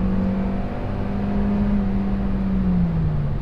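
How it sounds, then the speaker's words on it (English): A 2014 Kia Rondo seven-passenger car accelerating hard, a steady engine drone with a rising whine that dips as it shifts smoothly, heard from inside the cabin with no talking. "And now it's time for a quick acceleration."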